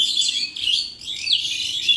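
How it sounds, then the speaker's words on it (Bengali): Small birds chirp and tweet in a garden, bright high calls repeating in quick clusters, fairly close and steady against quiet background. "দেখো পাখিগুলো কি কিচমিচ করে ঝামেলা করছে রে বাবা"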